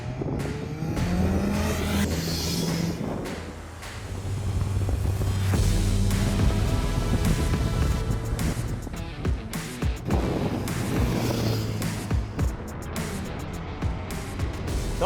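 Suzuki Hayabusa motorcycle ridden on a road, its engine revving up and down through gear changes, loud and close with wind rush throughout.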